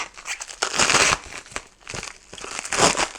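RC crawler parts for an RCP Bastard Jr being pulled out of sticky plastic bag packaging, close crinkling and rustling in several bursts with short pauses between.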